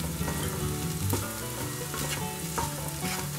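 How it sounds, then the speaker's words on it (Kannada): Small mini idlis fry in a pan with a steady, dense sizzle, broken by occasional spatula scrapes and taps, with no voices. "ಇನ್ನು 1-2 ನಿಮಿಷ ಈ ಥರ ಫ್ರೈ ಮಾಡ್ಕೊಳ್ಳೋಣ"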